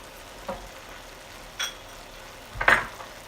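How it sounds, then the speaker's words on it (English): Tomato paste stirred into a softly sizzling pan of Greek pastitsio meat sauce, with a faint frying hiss under three distinct scrapes and clinks of a spoon against the pan. "So let's add our tomato paste. And we'll stir that in."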